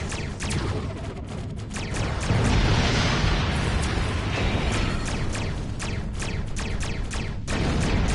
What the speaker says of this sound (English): Ship explosions cause damage.